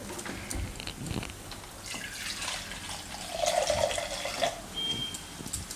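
Water being poured into a pan of methi leaf gravy made with peanuts, giving a close liquid splashing and trickling over faint kitchen background noise, with no speech.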